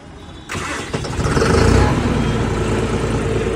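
A John Deere 5075 4WD tractor engine cranks and fires after a brief quiet start, then settles into a loud, close, rumbling idle that holds steady.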